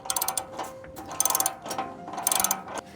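Ratchet wrench tightening rear bumper bolts on a 2009-2014 Ford F150, bursts of rapid close metallic clicking in several quick strokes, no speech.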